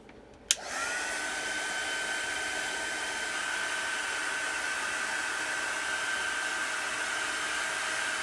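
A hair dryer switches on with a brief click and then blows a steady, loud whirring roar while drying a craft bird, with a constant tone and no speech.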